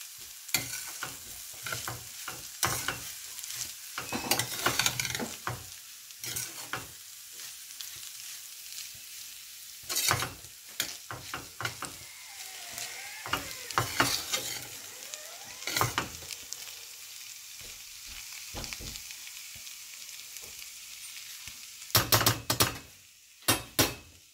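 Jeera rice being stirred in a pot, repeated scraping and clinking of a spoon against the bottom and sides over a faint sizzle, coming in irregular bursts with short pauses between.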